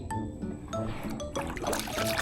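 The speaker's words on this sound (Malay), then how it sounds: "Buang air." Water sloshes and pours as it is scooped and thrown out of a small boat or raft, with trickling splashes and occasional clinks close by across a couple of seconds.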